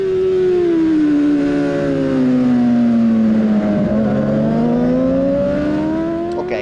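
A Yamaha R7 600 racing motorcycle howls down the straight in a winter 600 race, its loud, close engine note holding high, dipping slightly mid-run and then climbing again as it revs continuously.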